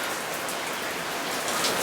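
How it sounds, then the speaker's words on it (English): Rain falls outside a garage during an engine teardown, a steady, hissing patter of drops on surfaces that stays even and fairly soft throughout. "And here comes the rain. You can probably hear that."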